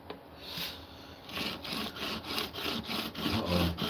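A Japanese plane blade is worked on a sharpening stone with liquid, giving a quiet series of rhythmic rubbing strokes, faint and close, with no talk.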